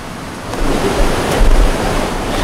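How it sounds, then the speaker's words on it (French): Rough ocean waves breaking on a Hawaiian beach: a loud, continuous wash of surf that swells and rumbles, mixed with wind noise on the microphone, with no voices. "L'océan il est enragé."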